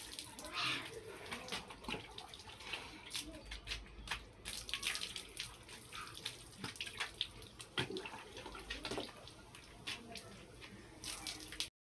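Water splashing and pouring during a bath on a hot day, with a mug used to pour water: continuous soft sloshing and dripping, close but fairly quiet, with scattered small splashes and no talking.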